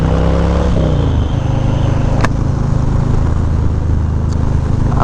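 A Harley-Davidson Low Rider S motorcycle engine runs loud and close, revving with a shifting pitch early on, then settling into a steady heavy rumble.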